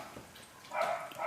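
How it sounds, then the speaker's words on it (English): A neighbour's dog barks somewhere in the distance, one faint bark standing out over a quiet background. "That's not our dog barking. That's the naughty neighbour's dog"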